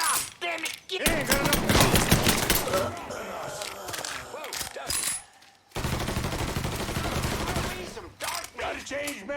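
Heavy automatic gunfire in the video game Mafia III, sustained rattling bursts that briefly stop and then resume, with shouted voices mixed in.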